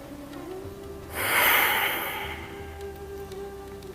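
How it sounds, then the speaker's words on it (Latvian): During a standing relaxation pose in a hatha yoga session, a single slow, deep exhale swells and fades softly over about a second, close and calm against a quiet steady hum. "Elpojam dziļi un mierīgi."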